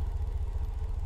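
Vehicle creeping forward a short distance to line up with a trailer hitch, a steady low engine rumble close by, no voices.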